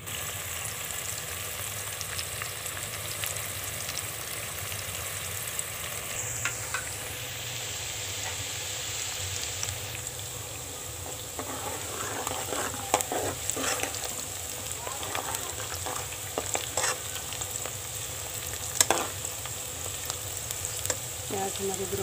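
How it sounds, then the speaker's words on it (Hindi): Onions frying for chicken korma, giving a steady loud sizzle throughout, with clattering strokes of a spoon stirring in the pan becoming frequent in the second half. "प्याज हमारी ब्राउन होना शुरू हो गई है।"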